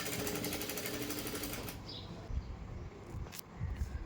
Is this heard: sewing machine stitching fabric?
yes